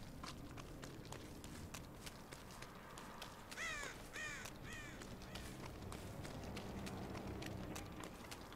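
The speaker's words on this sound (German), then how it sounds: "Ach, da ist der Vogel doch schon wieder." In the Dead by Daylight survivor match, a bird caws a few times in quick succession over steady footsteps and ambient game noise, fairly faint and distant.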